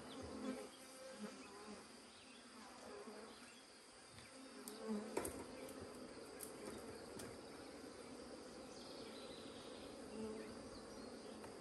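Honeybees drone steadily near a hive during a sourwood honey harvest in the rain, a continuous low buzzing hum that swells and fades slightly, close and unbroken with a faint wet background hiss.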